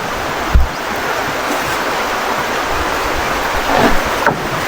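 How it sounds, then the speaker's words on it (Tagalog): A steady wash of falling rain hisses continuously on a farm in Leyte, Philippines, with a couple of brief louder thumps and splashes nearby. "Palagi na lang umuulan."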